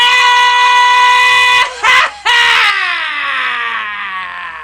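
A man's long, loud, sustained scream on a radio show, strained and piercing with a couple of sharp breaks near the middle before it trails off and fades.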